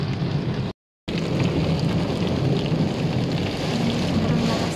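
Heavy rain pours down steadily near a noodle shop, a dense continuous hiss of drops on surfaces with a brief dropout near the start.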